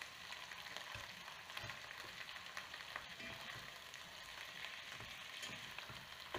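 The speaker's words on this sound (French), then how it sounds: "je fais dorer de chaque côté" Meat browns in a frying pan, giving a continuous close, fairly quiet sizzle with scattered crackles and small pops, no voices.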